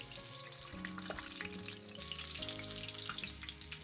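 Tofu deep-frying in a pan of hot oil gives a continuous dense bubbling sizzle, close and steady, with faint clinks of a utensil skimming the oil and no voices.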